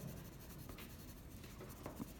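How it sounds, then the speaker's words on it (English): A pencil shades lightly on paper while a mouth is being drawn, a faint, steady, soft scratching with small uneven strokes moving randomly, close and quiet with nothing else heard. "keeping my pencil moving lightly and kind of randomly so that I don't get one specific like rows of shading"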